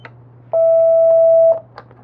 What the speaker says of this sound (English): if we type in the code for lock 1